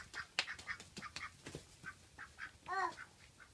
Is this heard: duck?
yes